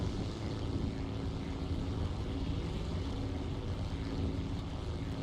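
A model airplane's engine and propeller drone continuously in flight, a steady buzzing roar with little change in pitch, moderately distant and alone without speech.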